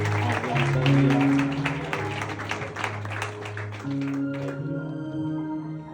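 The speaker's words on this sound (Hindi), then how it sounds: "जोर से तालियों के साथ परमेश्वर का धन्यवाद।" A church congregation at a worship service in Dubai claps together, a steady dense patter of applause lasting several seconds under sustained keyboard or organ tones that shift partway through.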